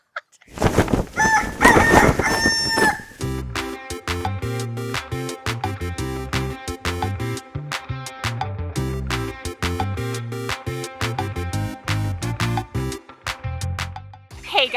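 Hungry backyard chickens in the Pacific Northwest, a rooster crowing loudly near the start followed by a steady stream of close, repeated clucks and squawks from the flock.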